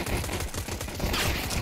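Rapid gunfire crackles in a Counter-Strike match at the IEM Rio 2024 qualifier, a dense continuous burst of overlapping shots, loud and alone with no voices.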